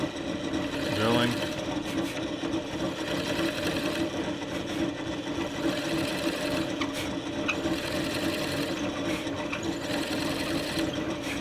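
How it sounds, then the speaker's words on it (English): A steady rasping, whirring drill grinds into an electric guitar body's wood during bridge installation, continuous, close and fairly loud, with a brief voice near the start. "Drilling."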